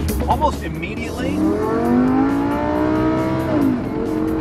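A 2015 Lamborghini Huracan accelerates hard, its engine note rising steadily and loud from inside the car. The dual-clutch gearbox shifts with a quick dip in pitch before the revs climb again.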